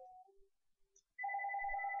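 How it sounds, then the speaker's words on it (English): After a few faint scattered tones, an electronic phone ringtone starts abruptly and holds steady and loud for nearly a second, a bright sustained tone close by. "phone is ringing"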